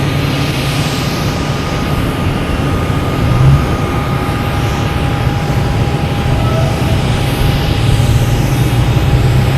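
A British Airways airliner comes in to land at Boston Logan Airport, its engines a steady, broad roar that swells slightly around the middle and holds loud throughout.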